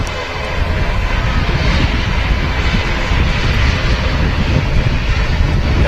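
An aircraft taxis at a windy Manchester Airport, giving a steady, loud engine roar with broadband rushing noise that holds evenly throughout after a brief quieter start.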